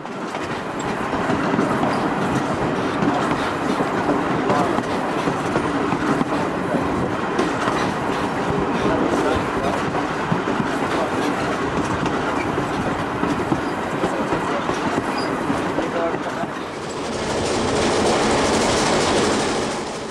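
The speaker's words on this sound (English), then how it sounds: "The train has now left 16th Street and is arriving at Berkeley, where additional passengers will board." A Southern Pacific excursion train rolls steadily on the rails near Berkeley, its wheels clattering in a continuous loud rumble, with a brighter hiss rising toward the end.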